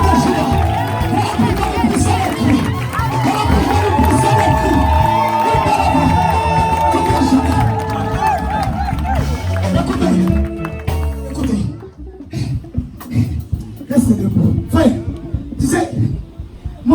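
A church congregation at a Sunday service loudly cheering and acclaiming, a dense roar of shouting voices with tones underneath that thins into scattered calls near the end.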